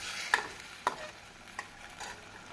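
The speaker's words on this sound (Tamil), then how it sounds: "இப்பொழுது நன்றாக மசாலா அனைத்தும் கலக்கும் வண்ணம் நாம் வதக்க வேண்டும்." Masala with turmeric and chili powder sautéing over high flame, a quiet sizzle with a few sharp spatula taps and scrapes.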